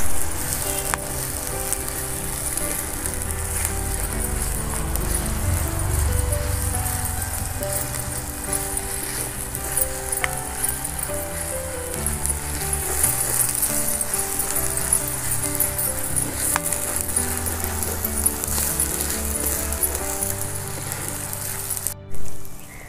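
Masala for an Andhra-style nethallu (anchovy) fish curry sizzles steadily in a hot pan, a loud, continuous frying hiss with occasional stirring scrapes, ending in a brief louder burst.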